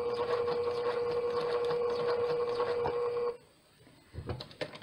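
A sewing machine runs steadily as it stitches fabric for hexagon coasters, a continuous whirring hum that stops abruptly, leaving a few soft handling clicks.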